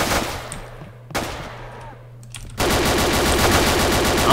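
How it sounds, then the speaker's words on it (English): Rapid machine-gun and rifle fire in the Roblox WW2 battlegrounds game, with bursts broken by short gaps and then a sustained, dense volley of shots, loud and close with no talk. "Who's shooting at what?"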